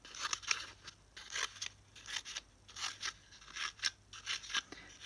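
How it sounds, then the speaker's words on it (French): Scissors snipping fringes into a paper roll for an ATC craft, a quiet, close series of about a dozen crisp cuts in a steady rhythm with no talk. "Et là, je vais venir découper des franges"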